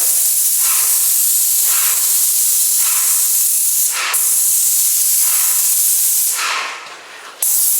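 An airless paint sprayer applies gloss water-based enamel to trim in a loud, continuous, close-up hiss, with faint rhythmic pulses in the spray, before cutting off briefly near the end.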